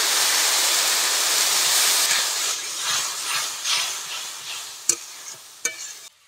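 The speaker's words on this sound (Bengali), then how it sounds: "জল দিয়ে দেব, দিয়ে মশলাটা ভালো করে কষে নেব" Spicy chilli-laden spice paste frying in a pan with water just added, a loud steamy hiss that fades into rhythmic stirring scrapes and two sharp spoon knocks at the end, close, no talking.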